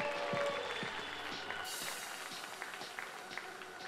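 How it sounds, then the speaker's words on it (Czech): Crowd applause at an esports tournament finals event, a dense steady wash of clapping from a large audience, loud at first and easing slightly as it continues without talk. "Ještě jednou potlesk!"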